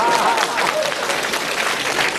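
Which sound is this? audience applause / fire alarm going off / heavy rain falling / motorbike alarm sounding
audience applause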